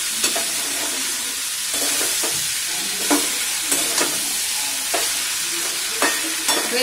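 Kohlrabi and prawns sautéing with spices in a pan, stirred in a steady rhythm: a scraping stroke about every second over a continuous close sizzle, with no voices.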